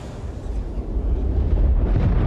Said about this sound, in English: Shockwave.